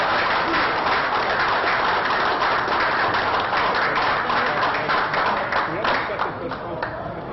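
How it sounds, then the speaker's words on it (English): A championship audience gives a loud, sustained round of applause, with dense clapping filling the whole stretch and easing slightly near the end. Muffled voices mix in under the clapping. "A big round of applause for"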